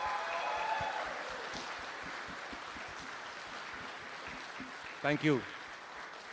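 Applause from an audience at the launch event for the Krutrim AI, a broad crowd clap that builds early and fades over several seconds before a brief spoken thanks.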